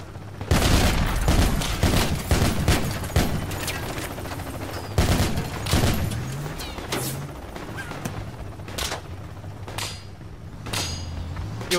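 Gunfire in the military shooter Project Reality arrives as heavy bursts of close automatic fire and single loud cracks, spaced irregularly over a rumbling engine hum.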